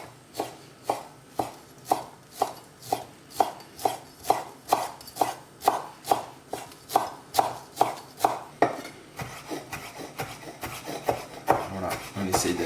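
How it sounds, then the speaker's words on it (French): A knife chops finely through rolled mint leaves on a board in a steady, even series of about twenty close crisp taps, ending in quicker scraping cuts. "on essaye d'hacher"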